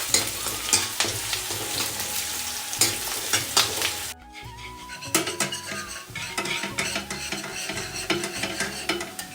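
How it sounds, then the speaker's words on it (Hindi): Onions frying lightly in a pan on a home kitchen stove, a steady close sizzle broken by repeated scraping and clinking of a stirring spoon against the metal pan, with a brief lull midway. "अब इसको हल्का सा भूनूंगी"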